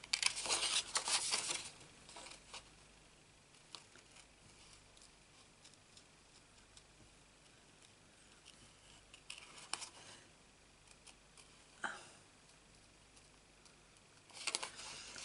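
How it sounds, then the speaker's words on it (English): Scissors snipping out a paper cake shape for a Stampin' Up birthday card, a few faint, scattered cuts with quiet pauses between them. "Grab our scissors. And we're just going to cut the whole cake out."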